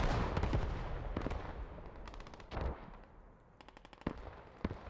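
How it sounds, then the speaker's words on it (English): Rapid automatic gunfire and heavy explosive booms of artillery fall on a capture point during a battle in the video game Post Scriptum, heard as dense bursts over a rumbling low background, with no talk. "KGK are throwing all they have onto the Cap. Artillery on Cap as well now."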